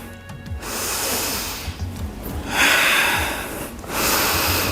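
Heavy, forceful exhalations during a yoga lift, close breathy gusts repeating a few times in a steady rhythm, with no talk.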